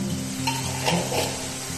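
Turmeric, Kashmiri chilli powder and salt sizzle as they are sautéed in a pan for an egg curry, a short steady close sizzle with a faint stirring scrape and no voices.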